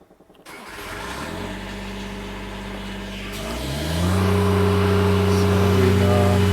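The diesel engine of a Niftylift HR21DE lift starts up and then runs with a steady mid-pitched drone, rising to a higher, louder idle partway through, heard close up with no talk.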